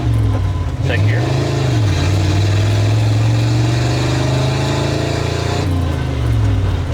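A 1953 Ford F100 with a Flathead engine and open exhaust cutouts revs loudly and close, the engine note rising and falling through gear changes in one sustained run.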